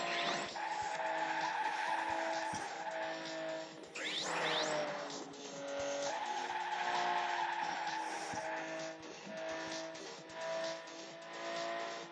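A car in the Asphalt 6 racing game speeds along with a continuous high engine whine, tire squeals and skids, and brief shifts in pitch, loud and steady with no talking.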